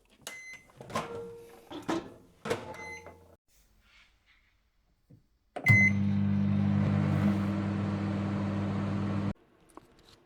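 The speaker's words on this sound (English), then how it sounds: "I'll get it in the microwave" A kitchen microwave oven heating a ready meal: a few door clicks and beeps, a pause, then a loud steady hum running for several seconds before stopping.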